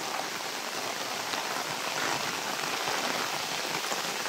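Heavy rain falls steadily over flooded village roads and mango orchards, a loud, unbroken wash of drops with a faintly gushing, stream-like quality and no talking.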